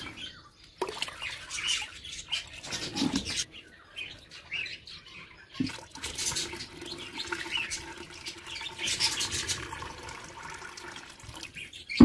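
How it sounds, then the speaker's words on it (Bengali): Water pours and splashes into a small DIY mini fish pond in uneven bursts, close and moderately loud, with a steadier trickling stretch in the second half and faint bird chirps in the background. "এইখানে জল দেবো, আর ভরে নিচে পড়বে"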